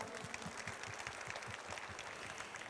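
Steady, evenly sustained clapping from an audience at the launch ceremony of a renewable energy residents' cooperative in South Jeollanam-do, filling the room without a break and with no voices over it.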